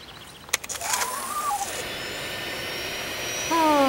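A lyrebird produces a mechanical whooshing, engine-like drone with rising whistles and sharp clicks, mimicking an aircraft engine at moderate distance.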